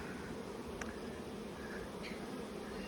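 Honeybees being blown out of a hive make a steady, dense buzzing hum with no break, close and fairly quiet, with a couple of faint higher whines passing through.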